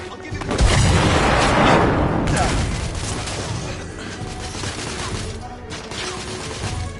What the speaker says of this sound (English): Throwing smoke grenade!